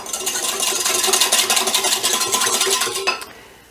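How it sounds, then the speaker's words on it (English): Leftover rice mixed with ketchup in a bowl, a close, rhythmic scraping and stirring of a utensil against the bowl for a few seconds before it stops. "So about 1 tablespoon, and then I'm gonna just mix it up"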